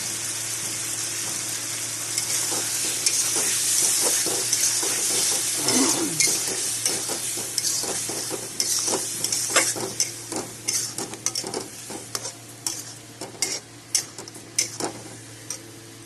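A garlic spice paste with a little turmeric fries and gets stirred in a pan. A steady sizzle runs under quick, rhythmic scraping and tapping of a spatula, which grows busier and more clipped toward the end.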